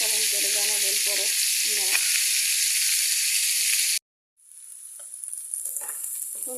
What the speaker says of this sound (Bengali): রসুন, পেঁয়াজ, আদা ভাজা হয়েছে